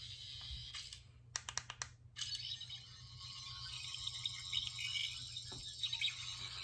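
Toy sonic screwdriver of the 15th Doctor playing its data sound: a quick run of crisp electronic clicks and pulses, then a sustained shimmering high buzz with small flickers, heard up close and without speech.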